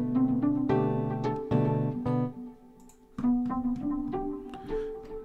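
Piano notes and chords played one after another, descending and then ascending through a phrase, with sustained tones ringing between strikes, close and clear, no voices.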